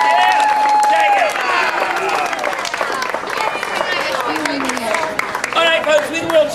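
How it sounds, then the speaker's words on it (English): Theater audience applauding and cheering the performers at the close of a live comedy stage show, a dense sustained wash of clapping and crowd noise with shouts mixed in, loud and continuous throughout. "Let's have a big round of applause for the stars."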